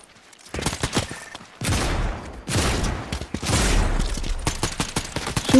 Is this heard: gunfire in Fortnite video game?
yes